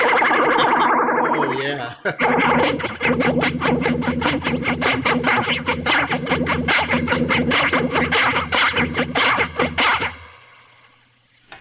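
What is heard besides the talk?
guitar through Electric Mistress and Roxanne flanger pedals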